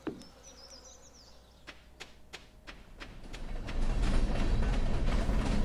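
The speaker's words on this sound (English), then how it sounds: "We literally just missed the train." A train passing in the Stardew Valley video game begins as light tapping and insect-like buzzing, then swells into a steady, loud rumble that builds and holds to the end.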